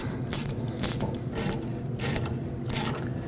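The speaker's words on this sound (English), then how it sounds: "And then we'll bring the clamp up and we'll tighten that." A ratchet tightens a worm-drive hose clamp on the fuel pump of a 2005-2021 Nissan Frontier, giving about five short bursts of clicking at a steady pace, close and fairly loud.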